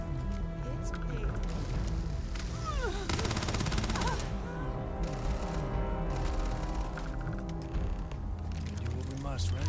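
Gunfire in the sci-fi video game Starfield rattles in loud, rapid automatic bursts alongside chaotic in-game effects and music, with shouting voices mixed in throughout.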